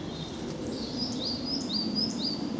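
Faint repeated chirping birdsong from robins and a tit, a few rising notes from more than one bird, over a soft steady outdoor background on a September country path.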